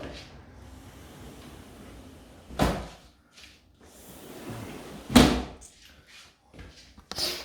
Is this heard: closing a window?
yes